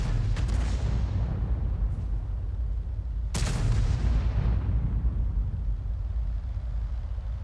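Gunfire strikes a Hummel self-propelled artillery tank in a tank video game: booming shots and impacts land over a heavy, continuous rumble, with two sharper blasts standing out early and midway.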